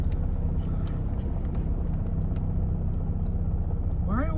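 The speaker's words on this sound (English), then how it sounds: "I gotta warm up my car." A car engine idles steadily while warming up after sitting off for an hour, a continuous low rumble close by, with a brief rising squeal near the end.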